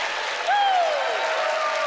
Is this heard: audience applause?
yes